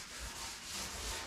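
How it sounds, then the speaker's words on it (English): A car cab's paint is wet sanded by hand, a soft continuous rubbing swish with slight back-and-forth swells, quiet and close. "when you're trying to wet sand like this, and you're, pushing on it to wet sand"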